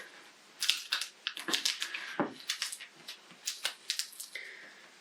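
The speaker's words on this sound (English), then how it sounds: "And then we can carefully peel back our transfer tape." Transfer tape slowly peeled back from layered craft vinyl, heard as a close, quiet run of crackling, ticking adhesive pops and small rustles that continue unevenly with no voice.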